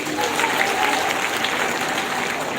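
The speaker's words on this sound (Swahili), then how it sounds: "Pigeni gavana makofi." A crowd at a county scholarship award event applauds the governor in a brief, dense burst of clapping, loud and even from start to finish.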